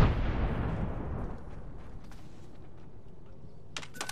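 A grenade detonates in an online shooter game, a loud close blast with a rumbling decay that fades over a couple of seconds, followed by faint clicks and a short burst near the end.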